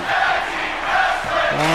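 Arena crowd cheering during a wrestling match in the video game WWE 2K23, a steady roaring wash of massed voices that swells and dips slightly.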